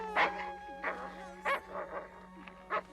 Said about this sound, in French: dites à ce chien d'arrêter de m'attaquer.